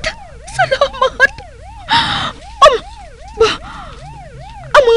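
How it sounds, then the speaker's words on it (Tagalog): A police siren wails in rapid, repeating up-and-down cycles, loud and close, with a few short bursts of noise and sharp sounds breaking in. "Patrol car? Nakabati ako sang tunog sa ilang sirena."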